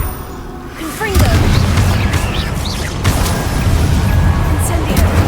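Fire spell Confringo cast in the Hogwarts Legacy game during a Witches Tomb battle against burning enemies: a loud low boom lands after a brief quieter lead-in, followed by sustained rumbling combat noise with whooshing streaks and talk over it.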